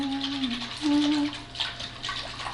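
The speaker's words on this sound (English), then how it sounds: "We're gonna whisk this together." A whisk stirs honey stir-fry sauce in a bowl, making a brief, soft scraping and swishing sound at close range. A faint tonal hum runs underneath.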